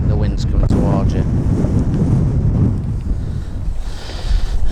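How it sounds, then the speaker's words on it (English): Wind blowing across a fishing spot low by the water, a steady broadband rush and buffeting against the microphone that runs the whole time with no clear speech. "the wind's coming towards you"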